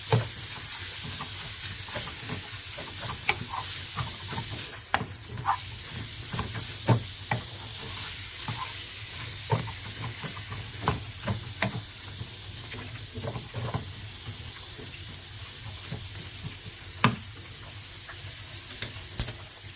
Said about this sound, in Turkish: Kıymamızın kendi yağını salmasını bekliyorum.